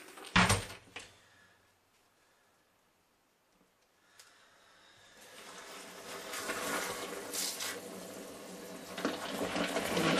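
Stainless steel tumbling pins rinsed with water in a sink: a sharp clatter at the start, a quiet pause, then a steady rising wash of running water and splashing with faint metallic rattles, close by and without talk.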